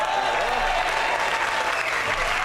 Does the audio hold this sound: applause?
yes